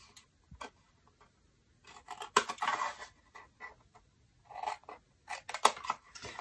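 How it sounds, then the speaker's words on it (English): Scissors snip through paper to cut out rectangles for an album, making quiet, close crisp cuts and rustles in irregular bursts with brief pauses between them. "So we're gonna go around and cut out all four of our rectangles."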